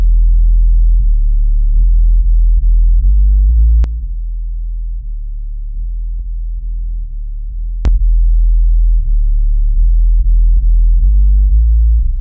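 Deep sub bass processed with an EQP1A equalizer on a Reggae Bass preset, pure sine-like low notes changing pitch in a steady pattern, loud and alone, dropping in level midway before returning.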